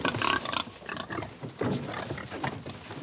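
Pigs on a farm in Brittany grunt and snort in short, rough bursts at close range, several calls overlapping briefly.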